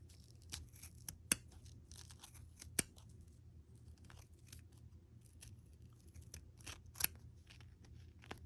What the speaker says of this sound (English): you get your scissors right in that ridge, and you start snipping away